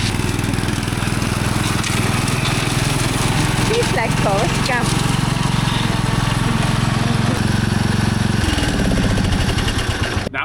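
A riding lawn mower engine drones loudly and steadily, close by, with a rough low rumble; someone briefly speaks over it.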